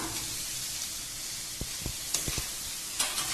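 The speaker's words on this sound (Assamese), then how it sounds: "এতিয়া মই ইয়াত দি দিম এই কণীখিনি পিচ পিচ কৰি থোৱা" Pricked boiled eggs drop into hot oil for an egg paneer masala gravy, giving a steady bright sizzle with a few sharp pops and crackles close by.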